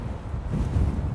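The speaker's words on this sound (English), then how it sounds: "Man, it's windy." Strong wind buffeting a microphone while cycling along a city road, a low roaring rumble that swells and gusts without let-up.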